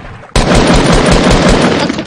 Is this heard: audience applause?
no